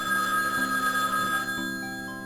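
A telephone rings in the Gabriel Knight: Sins of the Fathers adventure game, a steady electronic trilling ring held for about a second and a half before cutting off, leaving soft background music.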